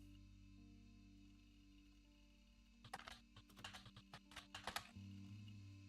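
Typing on a computer keyboard, a quick burst of close key clicks in an irregular rhythm that starts partway through after a quiet stretch with a low steady hum.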